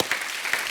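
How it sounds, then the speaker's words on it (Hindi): A brief, fairly faint burst of studio audience applause at a televised comedy show, a short patter of many clapping hands. "जोरदार तालियां होनी चाहिए"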